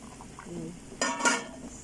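Chinese vegetable soup with chicken broth cube and thickener being stirred in a pot, a few soft scraping and clinking strokes of a utensil against the pan, faint and close, over a quiet simmer.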